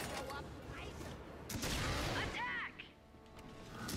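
Warmonger weapon firing in the video game Ratchet & Clank, a rapid flurry of blasts and booming impacts mixed with game effects, with a voice talking over it.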